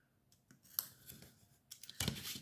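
Scissors snipping through card paper while trimming a folded greeting card, a few soft close cuts spread out, the last and loudest near the end.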